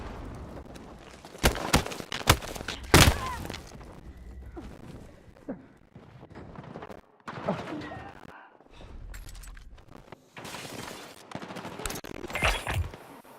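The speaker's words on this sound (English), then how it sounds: "Taking effective fire!" Video game gunfire rings out in a military battle, scattered sharp bursts and volleys of shots rising and falling over ambient battlefield noise.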